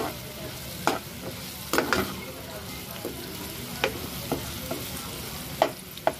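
Tomato masala for prawn pulav sizzles steadily in a pan once the lid is off, while a spoon stirs it with scattered clicks and scrapes at uneven intervals over a low, continuous frying hiss.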